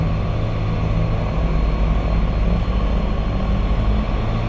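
Aircraft engines throttling up for takeoff in the X-Plane 11 flight simulator, an Embraer EMB-110 or Airbus A330, a loud steady droning roar that holds constant throughout.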